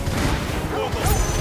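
Bomb explosions in Final Fantasy XVI: a rapid string of booming blasts and crackling impacts, loud and close, with a voice speaking over the chaos.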